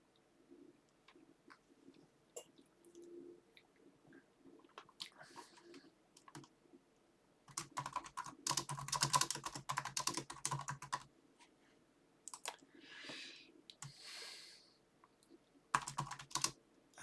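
Typing on a computer keyboard while writing a new WordPress post, in irregular bursts of clicking clacks, louder clusters in the middle, with faint bird cooing in the background.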